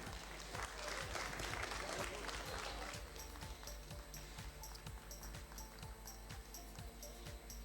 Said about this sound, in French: Bravo aux deux équipes, je pense qu'on peut les applaudir encore une fois.